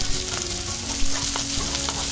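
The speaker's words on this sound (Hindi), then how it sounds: "तो अब यहाँ पर हम डाल रहे हैं 2 हरी मिर्च काटी हुई, वो इसके अंदर ऐड कर दिए" Chopped green chillies and onion sizzle steadily in hot oil while cooking upma, a continuous close frying crackle with a few brief stirring clinks, no voices.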